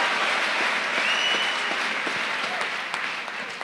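Steady, dense applause from a church congregation during a Sunday service, loud and continuous, tapering slightly toward the end.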